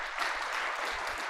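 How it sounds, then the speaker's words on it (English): A meeting audience claps steadily through a brief, dense burst at an annual general meeting, with no voices standing out. "Let's have a round of applause for that."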